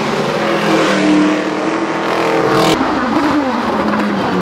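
Indy race cars at the Honda Indy Toronto street race roar loudly and continuously under acceleration, with a high engine whine rising and a car sweeping past, no voices.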